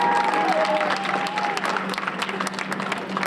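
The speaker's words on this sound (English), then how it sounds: "Y'all give yourselves a big round of applause" An audience at a youth summit gives a full, continuous round of applause, with a voice rising briefly above the crowd early on.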